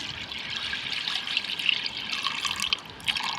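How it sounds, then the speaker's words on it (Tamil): Water pours steadily in a gentle trickle into a pressure cooker holding washed lentils, with light splashing close by and no voices. "டம்ளர் தண்ணி ஊற்றிக்கோங்க"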